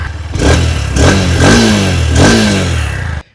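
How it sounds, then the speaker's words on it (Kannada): A Honda NX 200 motorcycle's 184cc engine barks through several quick revs at the exhaust, each throttle blip rising and falling in pitch, loud and close. "ಎಕ್ಸಾಸ್ಟ್ ನೋಟ್ ಕೂಡ ಕೇಳಿಸ್ತೀವಿ."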